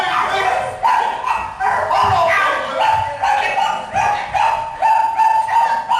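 A dog barks and whimpers in short yips amid a scuffle, loud and close, with a voice shouting over it.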